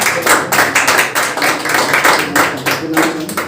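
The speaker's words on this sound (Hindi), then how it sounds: "तो मैं विनायक के लिए भी एक बार जोरदार ताली की अपेक्षा करता हूँ।" An audience at a coaching institute event claps loudly for Vinayak, a dense, continuous burst of close applause with no speech over it.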